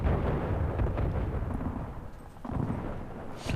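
Artillery guns fire in the World War II strategy game Men of War: Assault Squad during the Battle of Peleliu, a dense, continuous rumble of booming blasts with no speech.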